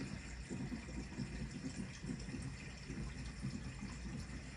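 Steady churning water flow in a 210-gallon mixed reef aquarium driven by a Jebao SCP-120 gyre wave pump, a continuous low rushing wash with a soft hum, constant and unbroken throughout.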